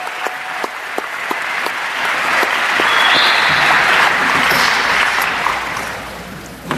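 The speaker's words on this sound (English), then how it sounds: "Let's give them another round of applause." At a school awards ceremony, an audience applauds students for completed projects, sparse early claps swelling into full, loud sustained clapping that tapers slightly toward the close.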